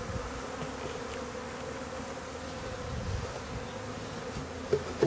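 A honeybee swarm being captured into a bucket after bad weather, heard as a steady dense buzzing hum throughout, close and continuous, with a couple of soft knocks near the end and no talking.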